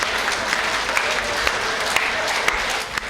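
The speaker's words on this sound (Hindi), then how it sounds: "ताली तो आप लोग ऐसे बजा रहे" Applause from the audience at a Hindi comedy poetry gathering, a steady dense wash of clapping lasting the whole moment, close and loud with no voice over it.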